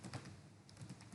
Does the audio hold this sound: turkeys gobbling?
no